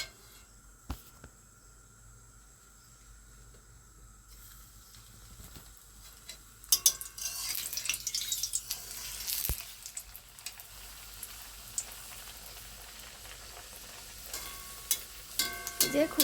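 Pieces of rolled dough going into hot oil, with quiet near-silence giving way to a bubbling, crackling sizzle that builds after a few seconds and keeps popping steadily, close and moderately loud, with no talking.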